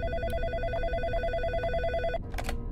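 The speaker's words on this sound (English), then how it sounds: "Walking into Desmond's office, we get the first of many phone calls." An old telephone rings in the video game In Sound Mind, a bright electronic trill repeating for about two seconds before cutting off, followed by a short clatter.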